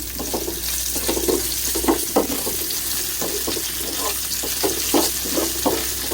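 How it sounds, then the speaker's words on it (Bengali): Spices and garlic fry in a pan while a utensil scrapes and stirs, giving a steady loud sizzle broken by repeated rhythmic scraping strokes. "মশলা এবং রসুন ভাজা হয়ে গেছে"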